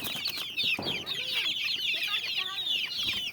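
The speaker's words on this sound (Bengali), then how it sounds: "এই যে আমার মুরগিগুলো" Chickens clucking and chattering close by, a flock of busy, overlapping calls with some soft scratching in the background.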